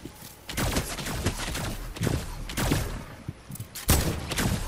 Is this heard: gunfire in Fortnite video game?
yes